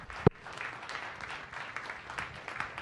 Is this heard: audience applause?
yes